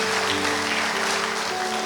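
Church congregation at a Sunday service applauding together, a dense, steady wash of clapping held at full level throughout, with a low sustained instrumental tone underneath.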